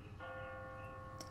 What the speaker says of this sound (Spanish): está sonando una campana